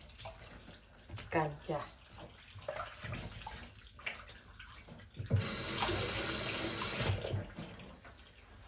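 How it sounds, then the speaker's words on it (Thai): Tap water runs and splashes as Chinese flowers are rinsed of dust under a faucet, a steady rush that grows louder midway, with someone speaking over the start. "มาล้างอยู่ค่ะล้างฝุ่นออก"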